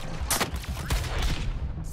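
Heavy cannon fire from a Suicide Squad video game, a dense burst of booming blasts and crackling impacts lasting about two seconds, loud and continuous with no voices over it.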